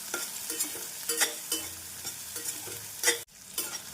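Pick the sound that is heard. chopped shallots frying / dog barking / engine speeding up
chopped shallots frying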